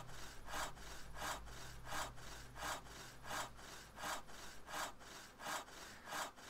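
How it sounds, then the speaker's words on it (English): Rhythmic tool strokes while building a hovel in the Steam Hammer video game, about a dozen steady back-and-forth rasping strokes like sawing wood, evenly spaced and moderately loud, with no talking. "I just have to equip my hammer now."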